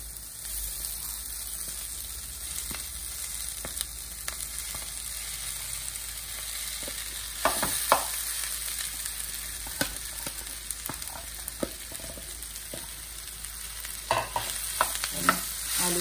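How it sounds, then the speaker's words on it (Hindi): Potatoes being stirred into softened onions in a pan for masala dosa filling, with a soft continuous sizzle and intermittent scraping, clattering stirring strokes growing busier toward the end; no talking. "आलू का अच्छे से हम लोग भी प्याज के साथ मिलाएंगे"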